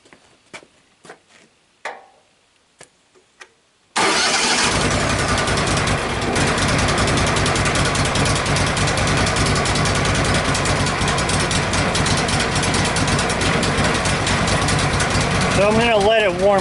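A Wood-Mizer LT sawmill engine turns over after a few clicks and brief sounds, then catches and idles loudly and steadily, a rough low rumble continuing to the end.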